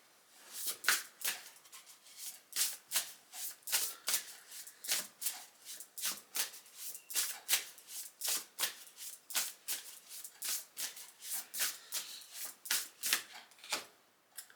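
A deck of tarot cards being shuffled by hand, rapid repeated riffles and slaps in a steady rhythm, close and crisp throughout with no talking.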